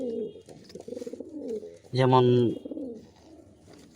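A pigeon gives a loud, close coo in a loft, a single rolling burst in the middle, while someone talks before and after it.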